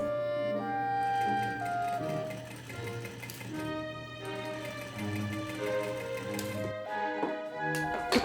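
A sewing machine finishing a plaid Regency dress made from a bedsheet, running steadily for several seconds with a whirring, tonal motor hum that pauses and resumes near the end.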